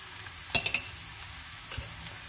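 Minced garlic hits a hot pan already holding onions and ginger, giving a soft sizzle with a few quick stirring clatters near the start and one more scrape later, fairly quiet overall.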